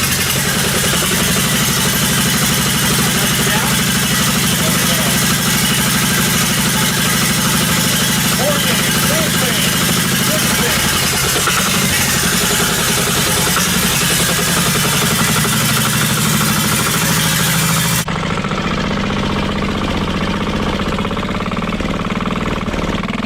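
A cheap Temu turbo diesel go-kart engine runs steadily up close, a loud, rough, hammering idle that continues without a break and changes character near the end.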